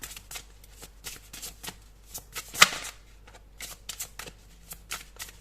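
Tarot cards shuffled and drawn by hand, a quick run of soft papery riffles and flicks with one sharper snap near the middle, close and fairly quiet with no talk.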